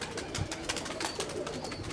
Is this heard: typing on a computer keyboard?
no